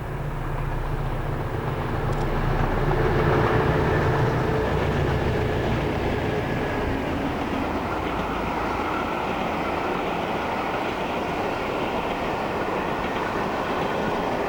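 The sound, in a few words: two British Rail class 73 locomotives and a class 60 on rail tour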